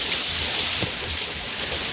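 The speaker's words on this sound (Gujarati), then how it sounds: "સવારમાં બહુ સરસ વરસાદ પડી રહ્યો છે." Steady morning rain falls outdoors amid green surroundings, a dense, even hiss of drops on surfaces throughout, loud and close, with no voices.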